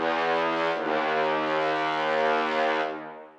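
A bright saw-wave synth patch with its lows cut below about 375 Hz and its highs boosted holds one loud, steady, buzzy chord for about three seconds before fading out, with no voice.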